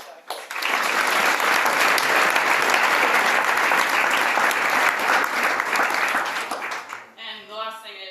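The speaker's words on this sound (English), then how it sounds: "I just wanted to do a big round of applause to all you athletes out there" An audience applauds athletes at an awards watch party, a loud, dense wash of clapping that holds steady for several seconds, then fades out as a voice begins speaking near the end.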